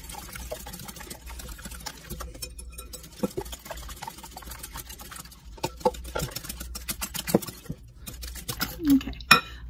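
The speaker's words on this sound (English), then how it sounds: "Okay, I've got that beat pretty good now" A French toast batter of eggs and cream whisked briskly in a bowl, with quick scraping and clinking strokes close by, irregular and busier toward the end, and no voices.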